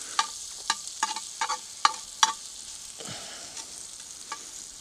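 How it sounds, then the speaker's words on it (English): Butter and cinnamon sizzle softly in a cast iron pan while a utensil stirs, producing a string of sharp scraping taps followed by a quieter steady sizzle, close and with no talking. "we're just going to heat those up and saute them a little bit"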